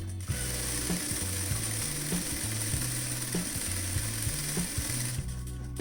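An electric sewing machine stitches a fall onto a saree, running in steady bursts of rapid mechanical chatter with brief pauses and speed changes, close and loud with no talking.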